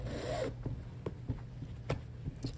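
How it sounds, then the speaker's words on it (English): Shoelaces are pulled out of a pair of shoes, producing a run of soft, close rubbing and scraping strokes at an uneven rhythm, somewhat louder at the start, with no voices. "first we're just gonna unlace the shoes"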